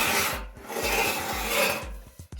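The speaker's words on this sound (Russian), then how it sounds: "В барабане появился такой неприятный звук трения." Atlant washing machine drum turning with a harsh grating friction, as if something is caught between drum and tub, repeating in a loud, close, rhythmic rasp with low thumps each rotation.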